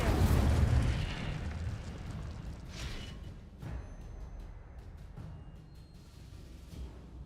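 Fire spell cast in Hogwarts Legacy, a loud low roaring whoosh at the start that fades into a sustained crackling rumble with faint scattered pops, no speech.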